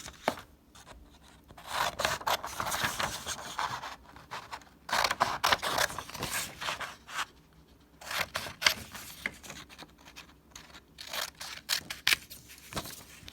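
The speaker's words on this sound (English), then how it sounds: "use your scissors and you are going to cut it out" Scissors cut a paper drawing by hand in repeated bursts of close snipping and paper rustling, separated by short pauses, with no talking.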